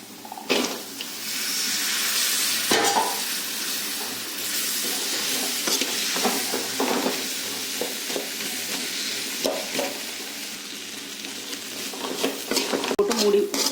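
Potatoes stir-fried in a pan for a simple potato poriyal, giving a steady broadband sizzle with repeated scraping stirs throughout, close and fairly loud, with no talking.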